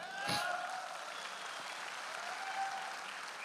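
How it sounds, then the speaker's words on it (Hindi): Audience at a stage event clapping: a steady, even wash of applause from a crowd that holds for the whole stretch, opening with one sharp nearby clap, with no talking over it. "ताली और सीटी की आवाज़ जब सर आए ना, ऐसी होनी चाहिए"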